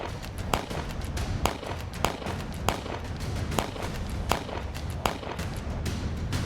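Gunfire in a multi-day encounter between security forces and militants in Kulgam, Jammu and Kashmir: sharp cracks, roughly ten of them at irregular intervals over about six seconds, standing out above a steady rushing background.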